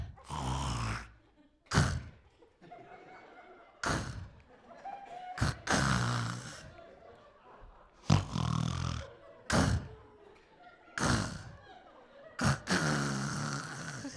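A human voice imitates a snore that sounds like a stalled engine, in a series of rough, sputtering bursts with short silent gaps between them, fairly close and loud.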